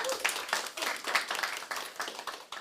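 An audience claps at an annual general meeting, a quiet, scattered patter of hands in uneven bursts with no talk over it.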